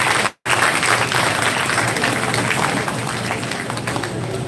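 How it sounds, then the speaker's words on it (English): Loud, sustained applause from a crowd at a national-level MBA fest, dense steady clapping that fills the hall, broken by a momentary cut near the start. "Guys, please give the round of applause"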